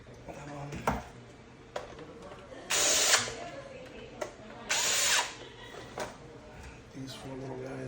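A power drill drives screws into a Honda S2000 AP2 middle console in two short, close whirring bursts, separated by sharp clicks, knocks and handling noises of the parts being fitted.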